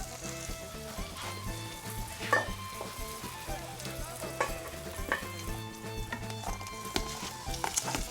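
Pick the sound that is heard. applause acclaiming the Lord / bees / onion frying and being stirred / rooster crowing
onion frying and being stirred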